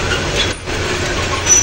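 The Parabat Express passenger train running between Sylhet and Dhaka makes a loud, steady rumble and rattle with a constant rail roar, no voices.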